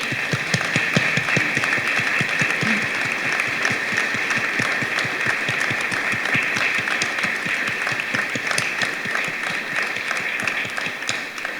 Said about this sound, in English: I'd just like to clap for everyone who spoke today and sang today.